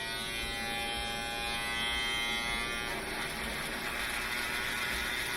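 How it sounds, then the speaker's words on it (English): An electric toothbrush motor whirs steadily as it scrubs a delicate part with a little soap and water, a close, continuous high buzz whose pitch shifts slightly partway through. "let the motor of the toothbrush do all the work for you too."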